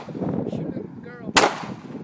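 A single loud gunshot from a Glock 27 Gen4 pistol or Rock River Arms Elite Operator 2 rifle fired at TV sets cracks out sharply near the end, after a stretch of muffled background noise.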